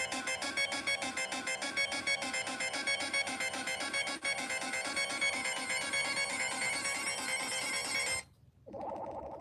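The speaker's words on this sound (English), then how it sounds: "The timer sound" A timer alarm rings loud and close, a fast repeating electronic beeping pattern held for about eight seconds before it cuts off abruptly, followed by a brief lower tone.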